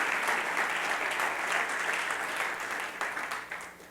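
Church congregation clapping during a Spanish-language sermon, a dense, sustained round of applause that stays even and then thins slightly toward the end, with no speech on top.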